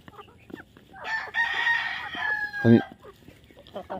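Chickens crowd together squabbling over cooked rice, with busy clucking and squawks and one short louder call standing out near the end, close and clear over a quiet farmyard background.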